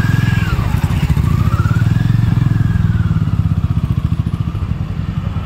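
A Hero Xpulse 200 4V motorcycle engine runs close by with a steady, pulsing thump, its idle even and strong throughout the few seconds.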